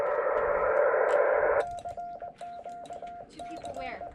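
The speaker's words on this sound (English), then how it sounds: "It's just sending and receiving Morse code" Morse code on an 18 MHz amateur radio band during a Parks on the Air activation. A short burst of static gives way to a rhythmic run of clear, steady tone beeps.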